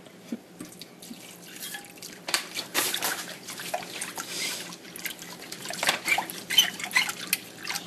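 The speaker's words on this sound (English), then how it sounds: "After 1 to 3 hours of marinating, wash the porks and rinse it well." Running tap water splashing and dripping while marinated pork is rinsed clean, a steady close trickle with irregular splashes and no talk.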